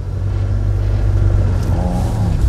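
A manual car pulls away from a standstill during a driving lesson, its engine droning loud and steady at close range and rising slightly in pitch as it accelerates, with no talk.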